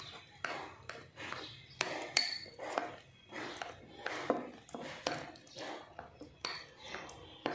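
Henna powder and oil are stirred in a bowl, giving a steady run of clinking, scraping strokes of the utensil against the bowl at close range.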